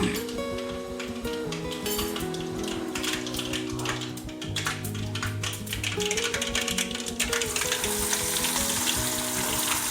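Onions sizzle and crackle loudly in hot oil with cumin, a steady frying hiss with occasional light taps of a utensil against the pan, for ringan no olo.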